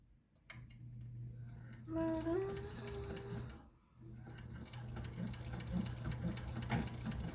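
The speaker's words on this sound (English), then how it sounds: "I am sewing on a Thor GC 1341 from Sunny Sewing. It is a free arm industrial machine" A Thor GC 1341 free arm industrial sewing machine runs a straight stitch in steady bursts, its motor humming with a low drone and a short pause in the middle before stitching resumes, close and fairly quiet.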